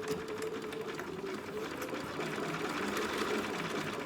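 Sewing machine stitching a dog outfit in a steady, continuous whir with a constant running hum throughout, close and fairly loud, with no talking.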